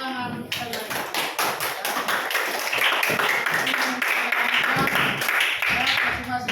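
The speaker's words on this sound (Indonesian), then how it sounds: "Tepuk tangan saya." A classroom of students claps together in a sustained burst of applause, a bright dense patter that carries on for several seconds while a voice speaks over it.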